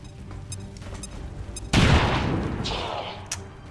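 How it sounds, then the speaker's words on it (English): Grenade explosion in the strategy game XCOM 2, a sudden loud blast with a rumbling tail that slowly fades, following quieter game sounds and a narrator's voice. "Throwing grenade."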